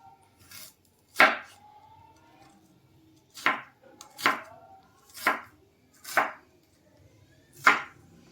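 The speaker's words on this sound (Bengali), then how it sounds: "একটু বড় বড় করে মোটা মোটা করে কাট, খুব ভালো লাগে বড় বড় পেঁয়াজ।" Onions for a mutton curry with potatoes are cut into thick pieces on a board, giving seven separate firm knife chops at an uneven, unhurried pace, each a sharp thud against the board, close and clear in a quiet room.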